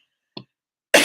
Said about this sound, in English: I just started coughing tonight